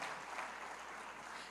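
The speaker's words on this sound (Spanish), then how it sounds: "Dale un fuerte aplauso al Señor Jesús." A church congregation gives a quick round of applause during a Spanish-language sermon, a faint, brief, dense patter of clapping lasting under two seconds with no voices over it.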